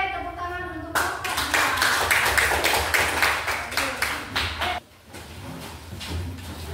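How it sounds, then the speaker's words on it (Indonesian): A classroom group claps together for their teacher, a steady burst of rhythmic hand claps lasting a few seconds after a brief spoken greeting, then it breaks off and quiet talk follows. "tepuk tangan untuk Bapak"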